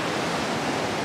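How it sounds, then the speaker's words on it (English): Ocean waves crash on the Northumberland coast in a dense, steady roar of surf, loud and close with no pauses or voices. "The waves are really crashing in this morning though, they really are"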